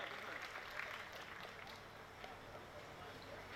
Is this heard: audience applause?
yes